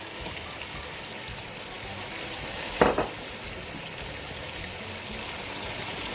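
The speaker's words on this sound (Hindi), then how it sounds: "अब मैं इसे 10 मिनट के लिए चिकन को इसमें फ्राई करूंगी।" Chicken fries in a karahi with a steady, even sizzle throughout, broken briefly by a short louder clatter of stirring near the middle.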